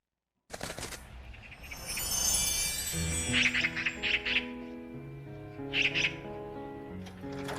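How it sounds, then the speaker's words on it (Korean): Birdsong from a short film played during a church service, bright chirps and tweets that come and go over a soft background of sustained tones, with no talking. "얘야, 저 새가 무슨 새냐?"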